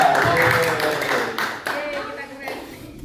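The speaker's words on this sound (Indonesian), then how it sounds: "Ayo tepuk tangan untuk kita semua." An audience claps at the close of an Indonesian event, a burst of clapping close by that weakens over a few seconds while voices talk over it.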